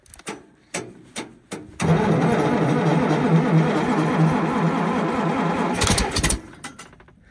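A cold International 656 tractor engine cranks with a few labored turns, then catches and roars into a loud, rough, steady run, fading at the end.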